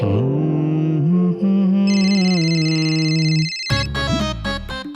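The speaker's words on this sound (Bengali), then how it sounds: "আরে ফোন বাজছে, কেউ ফোনটা তোলো।" A mobile phone ringtone plays loudly and steadily as a melodic electronic tune, with sustained tones that shift to a brighter, higher pattern midway, then break into choppy rhythmic notes near the end, with no voices.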